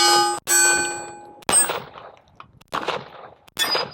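Smith & Wesson M&P 380 Shield EZ pistol fired several times, each shot a sharp, loud metallic crack with a ringing tail, spaced about a second apart with brief pauses between.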